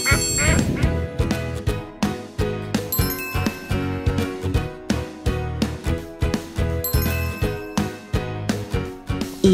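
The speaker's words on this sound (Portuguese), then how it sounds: "Um pato" A yellow toy duck from a children's fishing-pool toy set gives repeated quacking honks over a bouncy musical tune with bell-like jingles, steady and loud.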